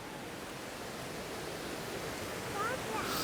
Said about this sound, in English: Did you like seeing the waterfall, Bubba?